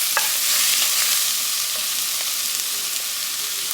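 Garlic and seasoning stirred in a soup pot for broccoli cheddar soup crackle with a soft, steady sizzle, with light scraping stirs and occasional small taps close by and no voices.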